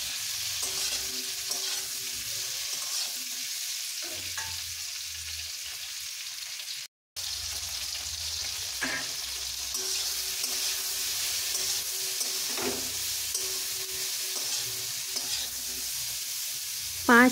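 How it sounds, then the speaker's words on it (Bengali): Jujubes coated in salt and turmeric fry on high flame in oil with five-spice and dried chilli for a pickle, giving a continuous close sizzle broken by stirring scrapes and a brief pause. "নুন হলুদ মাখিয়ে রাখা কুলগুলো দিয়ে দিচ্ছি। দিয়ে ভালো করে বেশ কিছুক্ষণের জন্য ভেজে নিতে হবে।"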